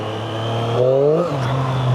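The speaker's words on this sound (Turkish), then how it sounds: "Bu motorla gazlaması çok keyifli arkadaşlar." A motorcycle engine revs up sharply and its pitch climbs briefly before settling back to a steady idle, close by and fairly loud.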